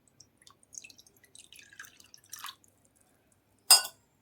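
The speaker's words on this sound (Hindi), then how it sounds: "अब उस बाउल में थोड़ा सा पानी ऐड कर लो।" Water poured into a glass bowl: scattered small drips and trickles, then a brief, bright splash near the end, heard in an otherwise quiet room.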